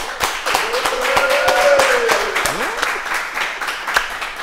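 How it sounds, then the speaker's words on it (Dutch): A studio audience applauds and cheers for Humberto Tan on a Dutch cooking show, with steady, dense clapping that holds throughout, loud and close, while a few whoops rise above it. "Mag ik een daverend applaus voor de enige echte Humberto Tan?"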